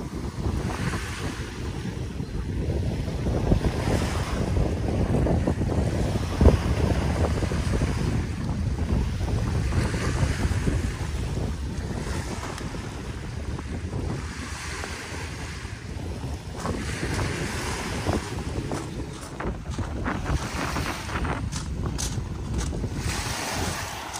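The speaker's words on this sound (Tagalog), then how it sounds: "Ito yung malakas ang hangin, ang alon." Strong wind and surf at Dolomite Beach on Manila Bay: a constant roar of waves and gusts buffeting the microphone, loud and unbroken, with no voices.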